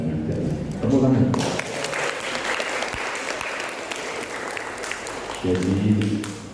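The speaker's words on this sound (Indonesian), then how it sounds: "Tepuk tangan." Applause at a graduation oath ceremony, a steady crowd clapping in a hall, with a voice speaking over it at the start and again near the end.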